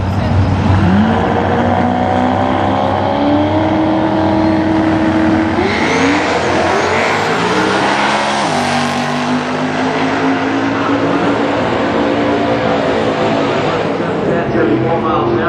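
Race car engines rev and sweep past loudly and continuously, a small 351 Ford and a 1965 Nissan Skyline running at speed with rising and falling engine pitch, while a commentator talks over the noise throughout.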